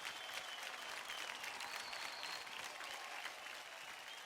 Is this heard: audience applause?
yes